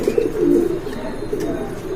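Lakha Beauty pigeons coo in a low, throaty murmur that swells early and then continues softly and steadily, close by, with no voices over it.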